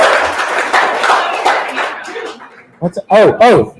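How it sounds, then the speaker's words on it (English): A monthly meeting audience gives a short round of applause, a burst of clapping about two seconds long that fades out before people start talking close up. "Big round of applause."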